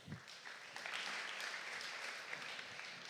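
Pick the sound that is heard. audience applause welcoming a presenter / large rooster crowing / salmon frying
audience applause welcoming a presenter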